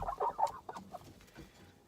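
Rhode Island Red hens cluck and murmur in short, soft bursts close by, a few quick clucks followed by quieter scattered chatter.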